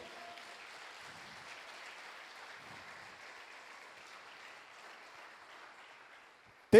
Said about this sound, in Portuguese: Será que você pode aplaudir o nome do Senhor?